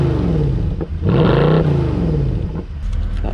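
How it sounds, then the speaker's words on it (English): A Mercedes-AMG car's exhaust revving nearby, a loud sustained engine note that climbs and falls through a couple of throttle blips, heard alone with no talking. "I'm going to show you a bit of a clip of the exhaust of the AMG."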